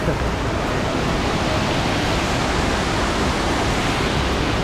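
Soi Sawan Waterfall in Ubon Ratchathani roars in a loud, dense, unbroken rush of falling water, steady and close with no voices.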